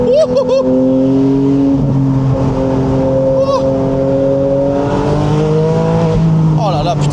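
The first hybrid Porsche Boxster accelerates hard on hot tires that slip, its engine note climbing loud and close in rising tones, with a voice talking over it.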